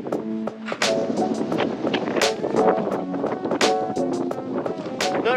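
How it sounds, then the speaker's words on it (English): Strong, gusty wind blows across the open Badlands while boondocking with a truck camper, buffeting loudly and unevenly in rough, close bursts throughout. "Windy. Very windy."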